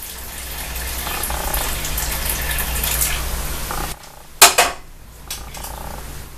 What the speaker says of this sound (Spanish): le voy a agregar la Jamaica y lo voy a colar ahí con ese colador